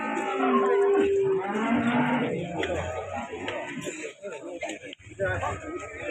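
A young female breeding cow (babon) at a cattle market lets out a long, loud, close moo, followed by a shorter lower call. Voices and busy market bustle continue around it.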